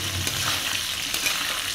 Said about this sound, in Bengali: আর এদিকে আলু ভাজা হচ্ছে মাংসের জন্য